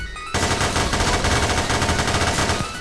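Sustained rapid automatic gunfire in Garry's Mod on a horror map, a loud continuous burst of shots lasting a couple of seconds before cutting off.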